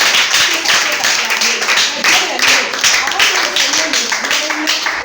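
A church congregation claps and cheers together in a sustained, loud burst of applause that fills the space, with voices mixed into the clapping.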